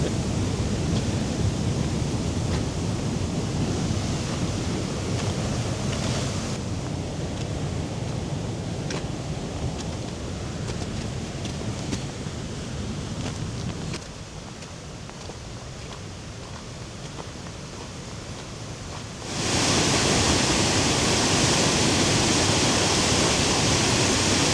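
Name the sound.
waterfall and river in spring runoff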